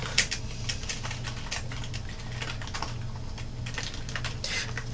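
Typing on a computer keyboard, a steady close patter of quick key clicks with a few louder strokes, over a low background hum and without talk.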